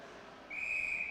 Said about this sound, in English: we'll have a whistle with 16:38 to go in the third period